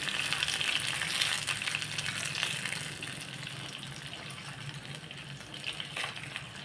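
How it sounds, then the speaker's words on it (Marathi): A hot tempering sweetened with sugar water hisses and crackles as it is poured bit by bit over steamed dhokla, a soft continuous sizzle that rises and fades, with no talk. "फोडणी थोडी थोडी करून ढोकळ्यावर ओतायची"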